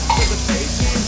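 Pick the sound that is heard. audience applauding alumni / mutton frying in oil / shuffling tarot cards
mutton frying in oil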